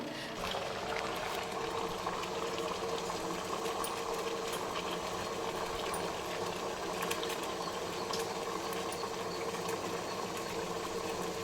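Water boils steadily in a steamer while wheat kadubu cook, giving a continuous, even bubbling hiss with no pauses or speech over it.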